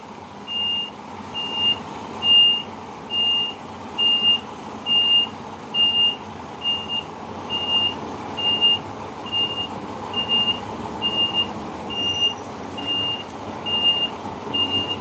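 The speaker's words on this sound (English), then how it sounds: "There are about two trucks ahead of me before I can be attended." Trucks waiting and maneuvering at a depot, a reversing alarm beeping in a steady regular rhythm over a low idling engine rumble, moderately loud and continuous for the whole stretch, with no voices.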